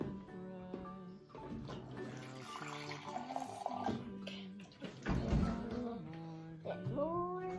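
Water runs from a tap while a child makes homemade body wash, splashing and trickling under the voices of an adult and someone talking throughout.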